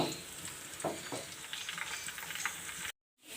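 Onion and four or five whole dried chillies frying in oil for kadhi pakora, a steady close sizzle with scraping stirs, ending in a brief cut to silence.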